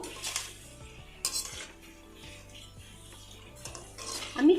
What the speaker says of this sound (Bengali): আবার একটু পকোড়াগুলো উল্টে পাল্টে দেবো